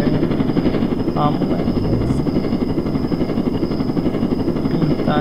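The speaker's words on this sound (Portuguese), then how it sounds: "Roubei o helicóptero." A stolen helicopter in Roblox Jailbreak flies with a steady, loud rotor and engine drone throughout, while someone speaks briefly over it.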